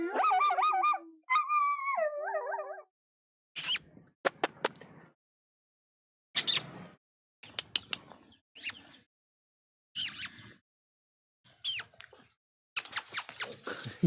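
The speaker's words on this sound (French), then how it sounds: "Le chien chante." A dog howls in a wavering, sing-song voice near the start. It is followed by a string of sharp, separate cries and yelps with silent gaps between them.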